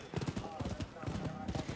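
Horse hooves clip-clop in rapid, steady rhythm in a video game, close and fairly loud. A person talks over the hoofbeats.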